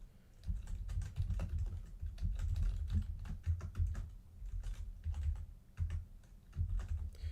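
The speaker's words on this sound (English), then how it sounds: "Sorry about the typing if nobody likes ASMR." Someone types on a computer keyboard, a close, rapid, uneven clatter of keystrokes that goes on throughout with no talking.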